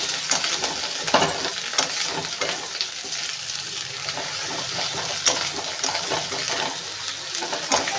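Chicken sizzles and fries in a small amount of oil with spices while being stirred, a close, steady crackle broken by scraping stir strokes throughout.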